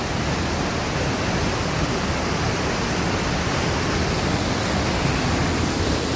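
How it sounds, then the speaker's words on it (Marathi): A large waterfall and stream in the Konkan runs strongly after two days of rain, a dense, even roar of rushing water heard close up, steady and unbroken with no voices. "हे 2 दिवस पाऊस पडल्यामुळे या पाण्याचा प्रवाह जास्त आहे."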